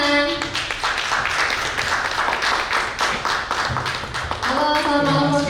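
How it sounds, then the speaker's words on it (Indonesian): Audience clapping at an evening talk event as a guest speaker is called up; rhythmic, fairly loud hand claps from a crowd continue throughout, with a voice briefly emerging near the end. "Kita berikan tepuk tangan."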